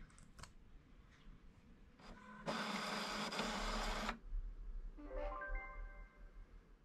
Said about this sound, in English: I just need to print these out.